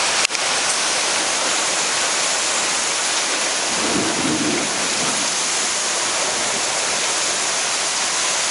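Thunder rumbles low in the middle of a heavy rainstorm heard from a back porch, a soft swell under the constant roar of pouring rain.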